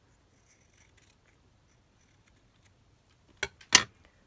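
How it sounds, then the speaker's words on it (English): Scissors trim paper ephemera for a collage with two crisp, close snips near the end, after faint small rustles and taps from paper handling. "so I'm just going to try and trim it down slightly better"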